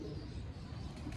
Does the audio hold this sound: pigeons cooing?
yes